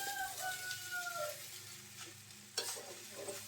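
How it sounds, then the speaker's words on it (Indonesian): Fried rice (nasi goreng) stirred in a pan over heat, a steady scraping and sizzling texture running throughout, with a sharper clank near the end. "ngaduk-ngaduk nasi goreng kayak gini"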